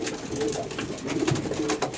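A racing pigeon coos softly, low and somewhat muffled, in an outdoor setting at a pigeon flying competition in Floresti, Prahova, Romania, with steady background noise.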